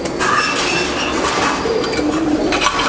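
Chinese Owl pigeons coo at a fancy pigeon farm, soft low murmuring calls rising and falling over a close, busy background with faint clinks and rustles.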